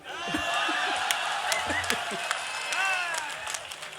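Applause from an audience at a Hindi poetry gathering, a steady wash of clapping with a few scattered shouts, holding at moderate loudness across the whole stretch.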